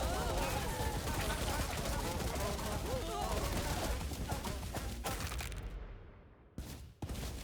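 Dense, crackling bursts of rapid explosions from zombies blowing up in the roguelike game How Many Dudes, a continuous loud barrage that thins out toward the end with brief gaps.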